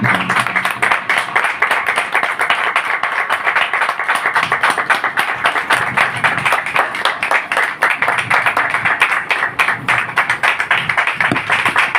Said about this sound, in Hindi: हम खुदावन के जलाल के लिए जोरदार तालियां बजाएंगे।